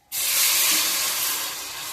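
Water poured into frying powdered masala (chili and coriander powder) in a pan for a homemade chicken curry sets off a sudden loud, steady steam hiss that starts abruptly and holds for about two seconds, with no talking.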